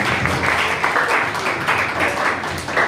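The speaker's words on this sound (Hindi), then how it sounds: "सो आइए परमेश्वर की महिमा के लिए हम जोरदार ताली" Church congregation at a Good Friday service breaks into loud, sustained clapping, a dense steady wash of hands filling the room for a few seconds.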